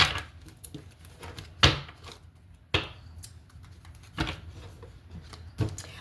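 Tarot cards are shuffled by hand in a quiet room, giving several separate crisp riffling bursts spaced a second or two apart, with soft rustling between them.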